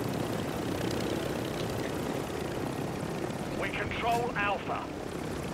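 A helicopter in the Call of Duty Modern Warfare 3 beta Ground War mode keeps up a steady, dense rotor and engine drone throughout, with a brief burst of speech from a player near the end.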